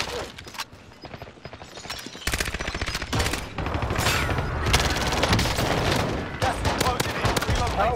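Rapid bursts of automatic gunfire in a Call of Duty: Modern Warfare match, dense and continuous for most of the stretch, with a voice talking over the shooting.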